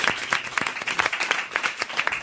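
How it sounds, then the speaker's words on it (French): A studio audience applauds a French radio show guest, dense rapid clapping with sharp individual claps and a steady lively rhythm, close and loud throughout. "Allez, on vous applaudit, bravo Serge Liado."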